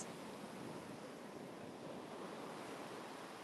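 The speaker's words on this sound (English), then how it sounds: "I'm so happy to be back in the waves" Ocean surf washes steadily onto a beach in a continuous broad roar, with some wind buffeting the microphone and no voices.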